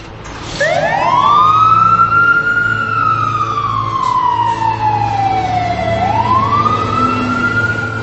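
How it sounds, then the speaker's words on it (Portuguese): Fire trucks arrive at a building demolition site in Boston with a loud, close wailing siren that rises, sweeps slowly down and climbs again over a low engine rumble, with no talking. "Em Boston, 3 caminhões de bombeiros chegam na área da demolição"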